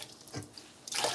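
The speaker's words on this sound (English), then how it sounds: "damp it with some water, just dumping it with water here while rinsing my hand off the flour" Water from a kitchen tap splashes onto a towel and over hands being rinsed of flour, a soft, close running-water hiss that surges briefly and then strengthens near the end.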